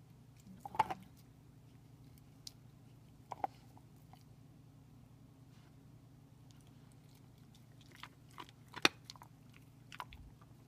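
A dog gnawing a marrow bone in a quiet room: sporadic sharp crunches and scraping bites, spaced a few seconds apart, close and clear over a low steady hum.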